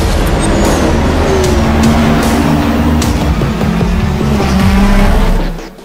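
A racing car in a video game roars with a continuous, loud revving engine tone that rises and shifts through gears, with tire squeal mixed in, before cutting off abruptly at the end.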